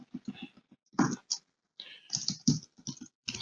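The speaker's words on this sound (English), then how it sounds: "as you're typing" Bursts of clicky typing on a computer keyboard during a programming talk, irregular clusters of close, crisp keystrokes separated by brief pauses.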